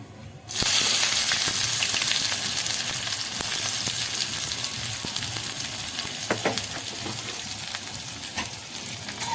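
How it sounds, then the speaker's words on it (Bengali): Chopped onions hit hot oil with whole cumin and chilli for a mutton cauliflower curry, setting off a sudden loud sizzle that holds steady and close for the rest of the stretch, with faint stirring clicks and no talking. "এবার পেঁয়াজ কুচোগুলো দিয়ে দেবো"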